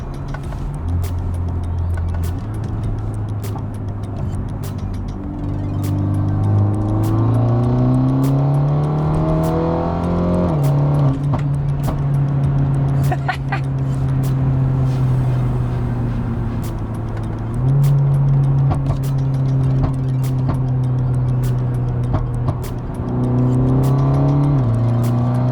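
A BMW G20 330e engine revs repeatedly with its exhaust valves open, loud and close, the pitch climbing and falling in several sweeps before settling into a steady, throaty drone with no talking.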